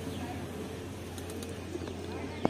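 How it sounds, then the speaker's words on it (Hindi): A Madrasi pigeon coos softly amid other birds at a pigeon loft in Ghatkopar, Mumbai, its faint calls set against a low, constant background hum. "ये अनारी आँखों का कबूतर है, मद्रासी कबूतर ये भी देखो"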